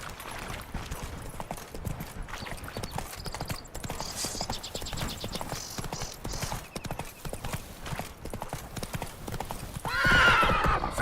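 Horse hooves clip-clopping at a gallop in The Witcher 3 game, a steady rapid rhythm close and clear, with brief whinnies and game sound effects layered over it; a voice talks intermittently.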